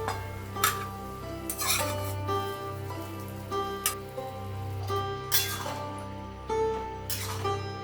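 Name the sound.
lifting the lid off the pan and adding fried egg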